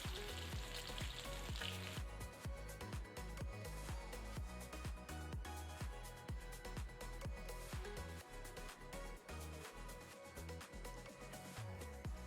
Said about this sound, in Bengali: এখানে আমি মাছগুলো ভেজে তুলে নিলাম আরও কয়েকটা মাছ আমি ভাজতে দিয়ে দেবো